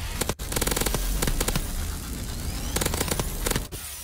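Rapid bursts of gunfire from a burst cannon in Call of Duty: Advanced Warfare. Loud, close, repeated volleys of shots come in clusters with short gaps between them, over continuous game background noise.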